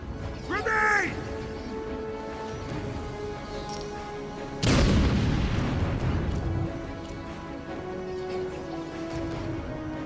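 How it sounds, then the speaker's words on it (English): Grenade explosion in the Batman: Arkham City video game; a sudden loud boom midway with a rumbling tail, preceded by game dialogue and ambient background. "Grenade!"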